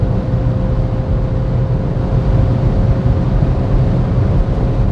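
Steady low road rumble and wind noise fill a Peugeot 2008's cabin at 150 to 180 km/h, a constant loud drone without speech.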